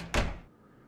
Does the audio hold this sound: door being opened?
yes